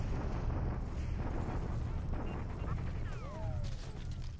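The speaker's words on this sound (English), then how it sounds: "Okay, bombardment at Baton." Artillery bombardment in the War in the Pacific strategy game rumbles as a dense, continuous roar of distant blasts and mechanical clatter, with a brief whistling streak partway through.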